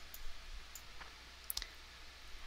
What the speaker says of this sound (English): we'll select it by clicking on the CLR number